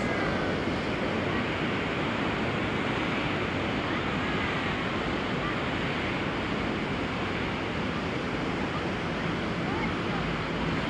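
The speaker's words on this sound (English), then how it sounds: "But now with the wind it's also very nice." Wind and surf at Da Nang beach in Vietnam in winter: a loud, continuous roar of breaking waves blended with gusty wind buffeting the microphone, steady throughout with no breaks.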